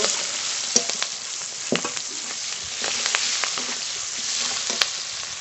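Onion slices frying in a pan for a country duck curry, giving a steady close sizzle with scattered clicks and scrapes of stirring, no voices.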